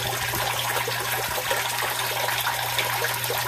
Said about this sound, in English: And I need to add some more water.